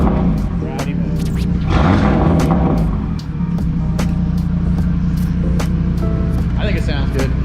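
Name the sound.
car exhaust in loud mode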